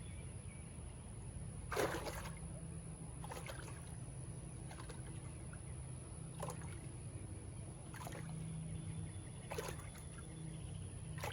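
A mesh bag of compost bounced up and down in a container of water, giving soft, faint sloshing splashes at a regular pace, about six dips spaced a second or two apart.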